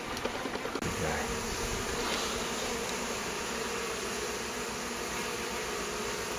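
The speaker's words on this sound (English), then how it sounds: "he's fanning his wings and sending out pheromones to everybody" Honey bees swarm around a backyard beehive, their dense, steady buzzing filling the air close by, with fanning wings at the hive entrance and no break in the drone.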